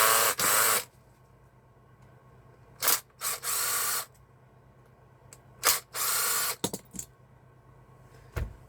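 A scrap electrical part is unscrewed by a power driver, with several loud whirring bursts of different lengths separated by pauses, close and clear, and a few small clicks between runs.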